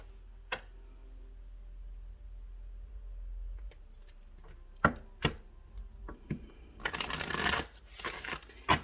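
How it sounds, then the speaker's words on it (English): Tarot cards are handled and shuffled in a quiet room. There are scattered sharp taps and riffles, and then a brief flurry of rapid riffling near the end. "I'm actually going to pull a couple more cards on this."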